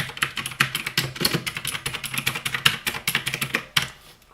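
A cheap RGB mechanical keyboard with blue switches is typed on quickly, a close, crisp stream of clicky keystrokes in uneven rhythm with a few heavier presses, nothing else heard.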